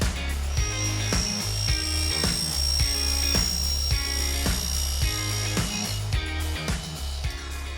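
A newly bought drop saw chopping aluminium stock for a DIY slide-out kitchen in a vehicle canopy, a loud steady high-pitched motor whine with repeated cutting bursts at a regular pace, no talking.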